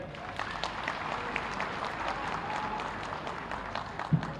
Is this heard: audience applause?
yes